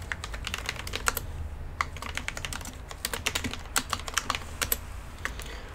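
Clicky mechanical computer keyboard being typed on, a steady run of crisp, close keystrokes with brief pauses, no voices, the key clatter standing alone.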